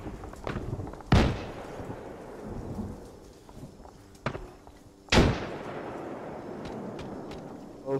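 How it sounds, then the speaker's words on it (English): Two heavy explosions from grenades in a military game, each a loud booming blast with a long rumbling decay, about four seconds apart, plus a smaller thud in between under a background of quiet noise. "Those friendly grenades coming or those enemies?"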